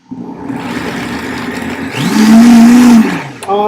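A kitchen blender whirs steadily as it purees corn, its motor revving higher partway through into a loud, sustained drone before easing off near the end, with no talking over it.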